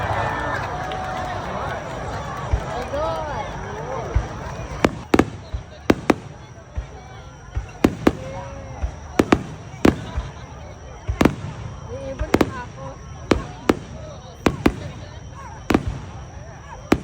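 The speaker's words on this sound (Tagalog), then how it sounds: "Start na yung Hanabi, yung fireworks" Fireworks at a Japanese Hanabi festival burst in a string of sharp distant booms and cracks, irregularly spaced over a murmuring crowd with people talking nearby.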